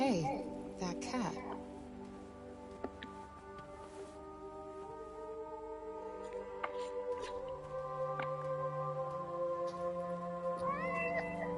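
A cat meows several times in the video game Forspoken, short rising calls over a backdrop of game music and ambient tones, with voices speaking.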